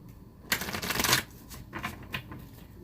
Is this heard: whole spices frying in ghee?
no